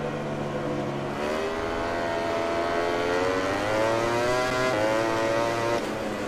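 A Ducati Desmosedici motorcycle in the video game MotoGP 20 revs loudly and continuously, its engine pitch climbing through gears with short shifts and then rising again, with no voices over it.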